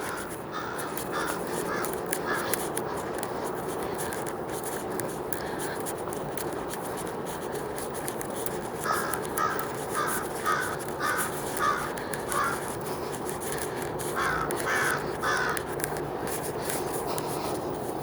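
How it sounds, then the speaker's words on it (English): A crow caws repeatedly in short bursts of harsh calls outdoors on a snowy Halifax university campus, with steady background noise and occasional brief speech. "I don't think the crow's too happy that I'm down here."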